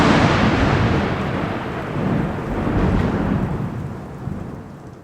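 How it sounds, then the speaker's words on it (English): A thunderstorm rages with heavy rain pouring steadily and deep thunder rolling and rumbling throughout, loud and close with no voices. "I'm recording this during a thunderstorm."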